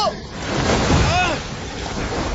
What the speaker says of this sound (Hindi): बहाव बहुत तेज है केविन, अब हम क्या करेंगे?